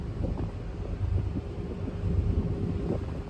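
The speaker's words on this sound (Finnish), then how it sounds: "Tää vähän tuulee, hei." Wind gusts across the open deck of a small car ferry carrying a motorhome, a steady low rumbling buffet against the microphone with no voices.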